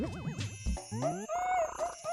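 Video game chime jingle of Animal Crossing bells money popping out after a rock is hit, a short bright run of tinkling, bouncing tones with a thwack, game music underneath.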